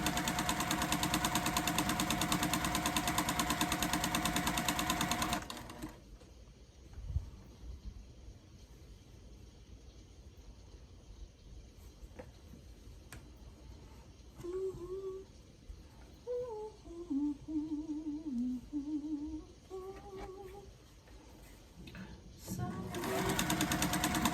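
A sewing machine stitches a quilt block, running loud and steady for about five seconds, then falling quiet with soft handling sounds and a brief voice before the motor starts up again at the end.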